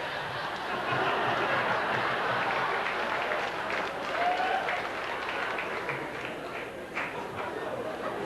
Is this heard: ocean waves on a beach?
no